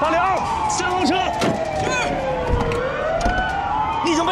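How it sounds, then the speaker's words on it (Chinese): A fire truck siren at a harbor explosion scene wails in long rising and falling sweeps throughout, with a slam and people shouting over it. "消防车"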